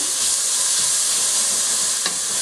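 Chicken curry frying in a pan with ginger: a steady, loud, bright sizzle and hiss throughout, with a faint clink near the end and no voices.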